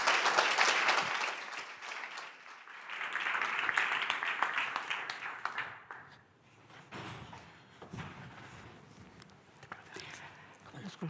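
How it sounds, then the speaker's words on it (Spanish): Applause from a podcast festival audience after a round-table panel, a loud burst of clapping that swells again, then fades into scattered claps, shuffling and room noise. "Así que pido un fuerte aplauso para ellos."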